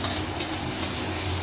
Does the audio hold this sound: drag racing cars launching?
no